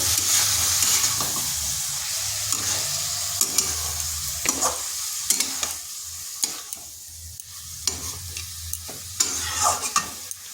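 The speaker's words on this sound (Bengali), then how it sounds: "এটা ভালো করে কষিয়ে নিতে হবে" Cabbage is sautéed and stirred in a pan: a dense, fairly loud sizzle that thins out over time, with repeated spatula scrapes and knocks at irregular intervals, heard close with no talking.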